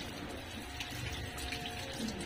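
Water pours steadily over a small child being bathed at home, a continuous close splashing wash with no talk over it.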